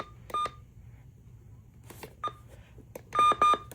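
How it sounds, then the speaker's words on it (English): Short electronic button beeps from a weather radio being pressed, single chirps then a quick cluster of several rapid tones near the end, sharp and close with quiet pauses between. "This is the button beeps."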